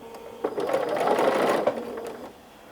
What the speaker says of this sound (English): So let's get to the sewing machine.